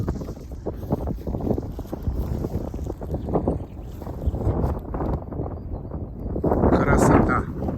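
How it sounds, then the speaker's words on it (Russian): Strong mountain wind at Uzana, central Bulgaria, buffets the microphone in a steady, roaring rush that swells louder near the end, with voices talking underneath. "Сильный ветер."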